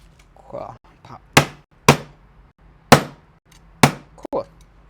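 Several sharp hammer blows ring out close by, about five separate strikes spaced unevenly, each a hard crack that quickly fades, during electrical work on switches and outlets with faint background noise between hits.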